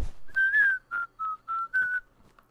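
A person whistles a short tune alone, five or six clear, close notes with brief gaps between them.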